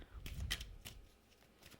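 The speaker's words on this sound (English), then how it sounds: "Let's give it a fresh little shuffle." Tarot cards shuffled by hand in a few quick riffling bursts, close and fairly quiet, with soft papery slaps and short pauses between them.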